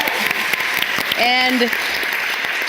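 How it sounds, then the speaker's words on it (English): Audience applause for a youth panel at a global summit, a dense steady clapping that fills the clip while a voice speaks briefly in the middle. "One more round of applause"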